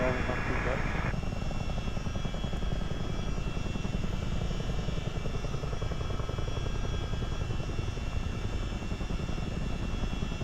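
A CH-47 Chinook helicopter in low-level flight, its heavy rotor chop and engine drone loud and continuous throughout, heard from on board with speech over the noise.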